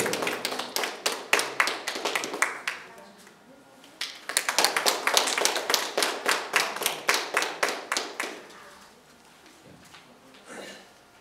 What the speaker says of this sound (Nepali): विशु गेवालीका लागि जोरदार तालीको आह्वान गर्न चाहन्छु।